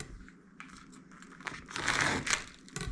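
A knife cutting into homemade smoked raw sheep milk Colby cheese with red pepper flakes, giving soft crinkling and tearing sounds, probably from the wrapping, that swell into a brief louder rustle near the end, quiet and close.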